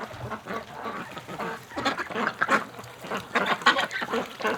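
Geese and ducks being fed hay on a winter day give irregular quacks and honks from a noisy flock, rising and falling in bursts and heard fairly close.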